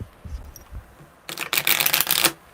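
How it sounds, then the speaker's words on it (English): Quiet rustle, then a burst of crisp riffling as a tarot deck is shuffled, the rapid flutter of cards lasting about a second before stopping. "Ooh, that was a really good shuffle."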